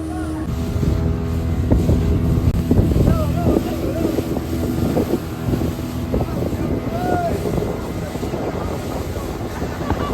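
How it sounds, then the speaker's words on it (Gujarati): A motorboat drones steadily across the sea off Shivrajpur Beach near Dwarka, its engine hum loud and continuous under heavy wind buffeting, with occasional voices in the background. "બોટ થાય છે સ્ટાર્ટ."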